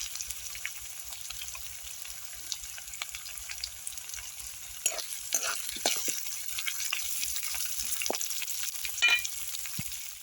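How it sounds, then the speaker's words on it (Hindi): Onions sizzle and fry steadily in a hot pan, with scattered crackles and occasional stirring clicks, fairly soft and close. "इस प्याज को हम तब तक फ्राई करेंगे जब तक इसका कलर न चेंज हो जाए"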